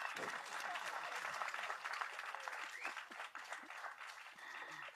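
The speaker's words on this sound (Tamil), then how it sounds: "இந்த படம் வெற்றி அடைய அனைவரும் கைத்தட்டல் கொடுங்க" Audience applause at a Tamil film audio and trailer launch event, a dense steady clapping from a crowd filling the hall, with some voices mixed in underneath.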